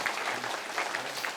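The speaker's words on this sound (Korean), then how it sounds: "우리 좌우의 분들 감사한 마음으로 박수 한번 하시고" Church congregation during a Sunday service applauding together, a short, soft burst of many hands clapping at a distance.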